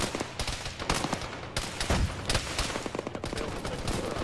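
Rapid gunfire in the video game Arma during a ShackTac firefight around a hotel, a steady barrage of overlapping close shots and bursts with no talk.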